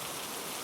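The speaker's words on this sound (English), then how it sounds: "you might notice another raindrop appearing on the window of the little cabin" Steady, dense rain patters on the window of a small cabin, an even soft hiss without pause or other sounds.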